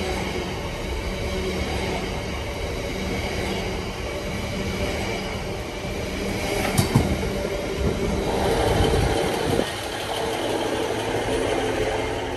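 A long train rumbles steadily past near Knottingley or Woodlesford, wheels clattering on the rails in a continuous roar with occasional metallic squeals, fairly close.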